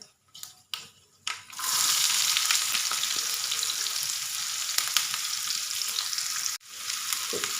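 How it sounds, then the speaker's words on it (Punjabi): Onions dropped into hot spiced oil with whole red chilies burst into a loud, steady sizzle after a few clattering stirs, frying continuously up close with a brief dip near the end. "ਤੇ ਹੁਣ ਮੈਂ ਇਹਦੇ ਵਿੱਚ ਪਾਵਾਂਗੀ ਪਿਆਜ਼"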